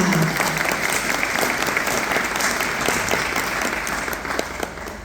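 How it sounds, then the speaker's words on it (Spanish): Applause from a crowd at a regional cultural event for two young girls about to perform dances, steady dense clapping lasting several seconds and thinning slightly toward the end. "Un aplauso a las dos niñitas"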